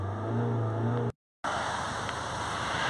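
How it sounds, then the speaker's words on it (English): A car with an AdBlue injection and NOx monitoring fault idles with its engine held at steady revs to flush fluid out. The even, continuous drone drops out briefly partway through, then resumes. "we're just holding some revs on the car here just to push all our fluid out"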